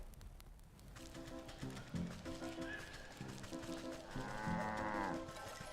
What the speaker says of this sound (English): There's another cow here.